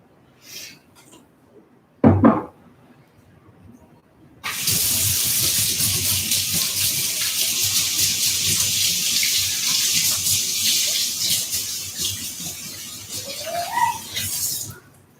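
A sink tap runs for hand washing, first a sharp clunk and brief trickle, then a steady close gush of water for about ten seconds that cuts off near the end.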